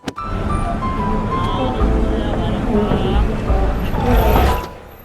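Busy Bangkok street traffic in which old school buses pass, giving a dense, steady engine rumble with a swelling pass-by near the end, plus scattered street noise and faint voices.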